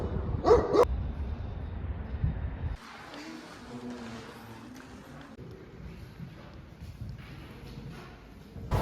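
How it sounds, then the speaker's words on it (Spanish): A dog barks in a quick burst of sharp, close barks at the start, followed by quiet outdoor ambience near a historic residence in Lviv, western Ukraine. "aquí hay un perro que me está ladrando"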